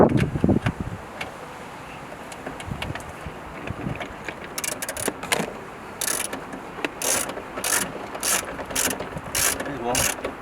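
A ratchet clicks in short rhythmic bursts while tightening window regulator bolts inside the door of an MK2 Golf, the repeated pawl clicks close and fairly loud, preceded by softer handling noises.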